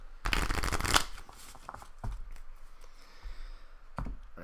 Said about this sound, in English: I'll do a quick riffle shuffle as well.